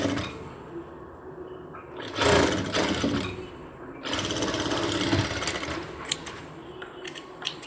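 A sewing machine runs in bursts while stitching a cargo half pant, with short pauses between runs of rapid mechanical clatter, close and fairly loud in a quiet room.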